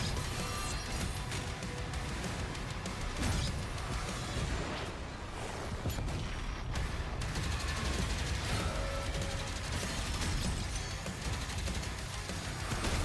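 Dense, continuous gunfire and explosions from a video game shooter roar loud and unbroken, with rapid automatic bursts, crashes and blasts layered throughout.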